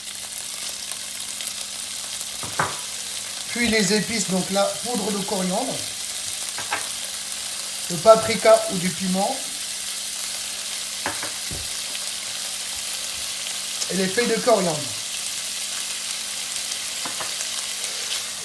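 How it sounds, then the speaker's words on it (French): Chicken crumbs fry in hot oil in a pan over medium heat with spices, giving a steady, close sizzle that runs throughout beneath intermittent French speech. "Une fois que l'huile est chaude, je verse donc mes miettes de poulet."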